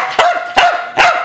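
A Pembroke Welsh Corgi barks three times, loud and close, in an evenly spaced rhythm about half a second apart.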